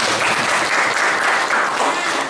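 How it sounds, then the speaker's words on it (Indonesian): A room full of people claps steadily, a dense, even burst of applause lasting a couple of seconds with no talking. "kita beri tepuk tangan untuk Evi ya."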